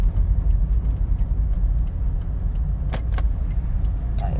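A car drives along a road, heard from inside as a steady low rumble. A few faint clicks and knocks sound near the end. Nobody talks.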